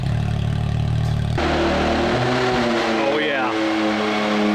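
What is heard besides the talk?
Can-Am X3 engine idling and revving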